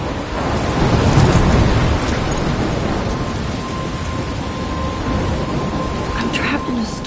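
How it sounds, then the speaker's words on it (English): Steady heavy rain and rumbling thunder from a storm in the video game Life is Strange, a broad continuous wash that swells early and stays loud, with faint tones and some speech-like sounds over it. "I'm trapped in a storm?"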